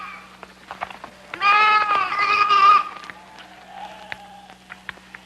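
A sheep lets out one loud, wavering bleat lasting about a second, with faint scattered clicks and low background hum before and after.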